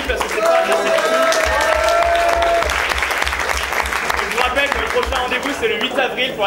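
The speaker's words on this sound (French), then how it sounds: "Je demande d'applaudir une dernière fois le jury parce que c'est pas assez." Loud, dense applause from an audience for a contest jury fills the whole stretch, steady and close, with crowd voices and a brief sustained tone mixed in.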